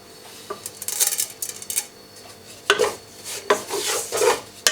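Flour being stirred in a pan for croquetas with a utensil, giving repeated scraping and clinking strokes of moderate loudness, close by and alone with no talk.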